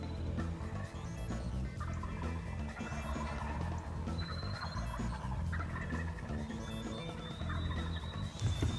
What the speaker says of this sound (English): They're gobbling good this morning.